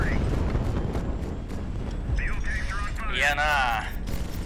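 In the HighFleet video game, enemy gunfire strikes fuel tanks, producing a steady barrage of booming hits and rumbling impacts with warbling electronic tones, while a voice talks over the din.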